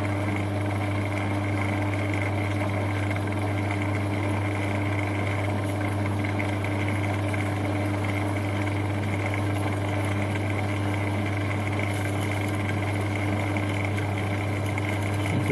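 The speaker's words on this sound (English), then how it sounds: "See the old lathe's under a fair bit of duress here." An old lathe in bottom gear turning at 143 RPM while a 12 mm 90-degree cobalt spot drill cuts spring steel, giving a steady, strained mechanical drone with a strong low hum, continuous and close.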